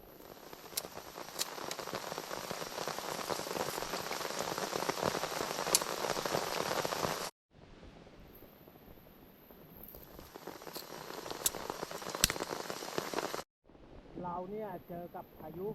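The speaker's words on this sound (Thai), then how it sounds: "ต้องเข้ามาหลบฝนก่อน" Heavy storm rain pours steadily onto surfaces in a dense hiss, cutting out twice briefly, with a voice talking near the end.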